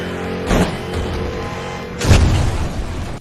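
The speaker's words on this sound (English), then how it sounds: "You probably think that was a realistic crash." Car crash in a racing video game, two loud heavy impacts about a second and a half apart, each a booming crunch over a steady engine drone, with no talking.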